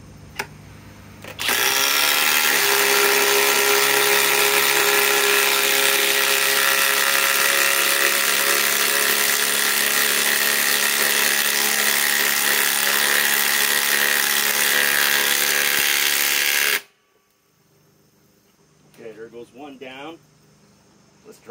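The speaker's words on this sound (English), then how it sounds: "let's drive these 6 inch lags and see what they'll do between impact" Cordless impact wrench and impact driver sinking a 6 inch lag screw, a loud continuous high-pitched whirring hammering that runs for about fifteen seconds, then stops abruptly, followed by a short stretch of quiet talk.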